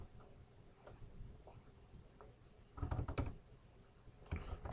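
Faint keystrokes on a computer keyboard while commands are entered, scattered single clicks followed by two quicker bursts of typing, close and quiet.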